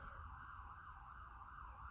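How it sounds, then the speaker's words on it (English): Faint emergency sirens outside, a steady wavering wail far off in the background with no talking. "Can you guys hear the sirens?"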